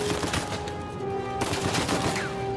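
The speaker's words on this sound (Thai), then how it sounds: "ยังยิงปืนกระบอกหลักอยู่" Gunfire from a main weapon in Uncharted 4 crackles in loud, rapid bursts, with dense overlapping shots and a sustained tonal hum underneath, pausing briefly before another burst.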